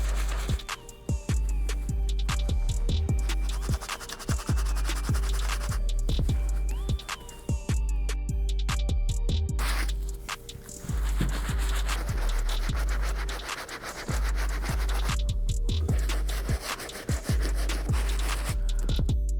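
An all-purpose brush scrubs the uppers of Air Jordan Cool Grey 3 sneakers, giving steady close-up scratchy rubbing strokes in quick repeated rhythm, with brief pauses, and no talking.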